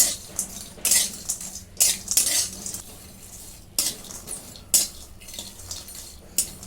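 Dried Bombay duck fish dry-roasts in a kadhai as a metal spatula scrapes and clatters against the pan in repeated sharp bursts, with only a faint sizzle between strokes.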